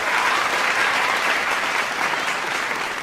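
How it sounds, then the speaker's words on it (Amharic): Sustained, dense applause from an audience clapping for children at an Ethiopian Orthodox spiritual event, loud and steady throughout with no pauses. "አረ ከባድ ጭብጨባ ያስፈልጋል"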